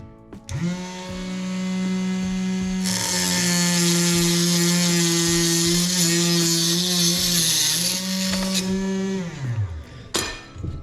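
A power saw cutting an arrow shaft for a whitetail hunting setup: the motor spins up to a steady high whine, the pitch shifts as the blade bites through for several seconds, then it winds down, with a short clack at the end.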